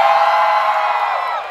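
A concert crowd at a live Filipino band show in Dubai cheers, whoops and shouts loudly and continuously, a dense wall of voices that eases slightly toward the end.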